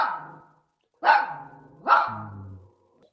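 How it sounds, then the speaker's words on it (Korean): A dog barks three times, short and fairly close, with a gap before the second and third barks, which trail into a low growl. "멍멍이."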